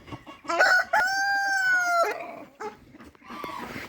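A Yasinami rooster crows once in a long, drawn-out call close by, with a few shorter clucks and calls from the flock before and after.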